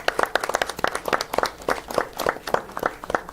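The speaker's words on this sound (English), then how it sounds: "Just would like to give Kim a round of applause for all that she does for council." A small group claps at a council meeting, the individual hand claps distinct and fairly close in a loose, irregular patter that holds steady throughout.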